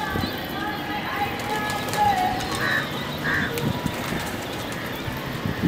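A wild pigeon coos softly near a cage outdoors, a couple of short calls over continuous people talking and background movement.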